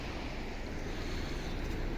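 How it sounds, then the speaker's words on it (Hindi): Constant rushing water noise, broad and steady like a fast river flowing below dry mountains in Upper Kohistan, with some wind buffeting and no voices. "नीचे जो है दरिया बह रहा है। पानी की स्पीड बहुत ज़्यादा है।"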